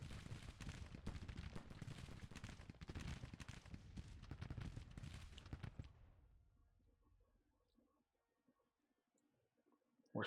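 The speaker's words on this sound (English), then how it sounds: "Our artillery is firing over here, just not very well." Artillery fire in the Grand Tactician: The Civil War strategy game, a dense, continuous barrage of booms and rumbling reports for about six seconds, then fading into quiet ambience with a sharp hit at the very end.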